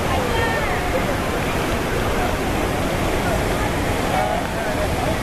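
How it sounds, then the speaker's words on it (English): Cheonjiyeon Falls on Jeju Island, a loud, steady broadband roar of falling water heard close by throughout, with no voices. "There's a little waterfall kind of over on the side, and then the big one's over here."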